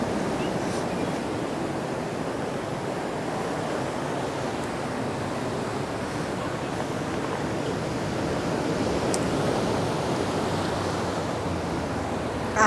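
Ocean waves washing onto the rocky shore at Caloundra on the Sunshine Coast, Queensland, a steady, soft surf rush with gentle swells and no talking.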